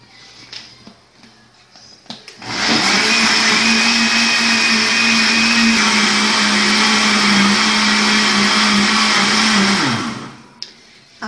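An electric blender whirs loud and steady for about eight seconds, mixing milk, dissolved gelatin and other ingredients for an eggless no-bake pudding, with quieter kitchen handling sounds before it starts and after it stops.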